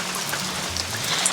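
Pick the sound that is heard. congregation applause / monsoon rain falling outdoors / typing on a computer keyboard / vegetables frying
monsoon rain falling outdoors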